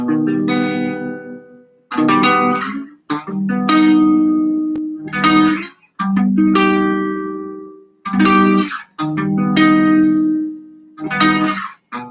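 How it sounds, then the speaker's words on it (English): Strummed guitar rhythm chords on the bottom four strings played alone, a handful of bright, ringing strums with short gaps between them, each left to sustain and fade. "the rhythm chord, or the bottom 4 string chords"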